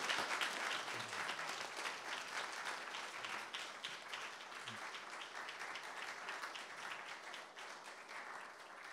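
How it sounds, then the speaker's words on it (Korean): An audience applauds at an honorary doctorate conferral ceremony for Jeonju University's 61st anniversary, steady dense clapping at moderate distance, fairly soft, that holds throughout and tapers slightly near the end. "큰 박수 부탁드리겠습니다."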